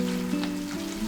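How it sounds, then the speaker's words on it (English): Luqaimat dumplings deep frying in hot oil give off a steady, dense sizzle with crackling pops, loud and close, with a low hum beneath and no talking. "This is the second batch I am frying."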